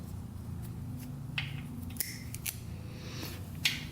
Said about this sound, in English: I'm gonna cut off some of this crap wire.